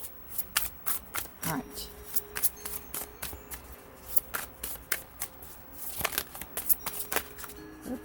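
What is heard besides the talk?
shuffling tarot cards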